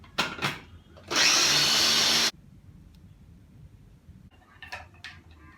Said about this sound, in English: This is the last of my olive oil, so I'll just go ahead and blitz this